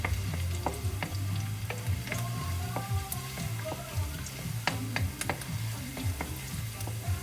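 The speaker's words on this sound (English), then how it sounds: "I'm going to add in my garlic. Give it a quick saute and let it brown a little bit." Garlic sautéing for a bok choy stir-fry, with a steady close sizzle and frying hiss, and scattered clicks and scrapes of stirring in the pan.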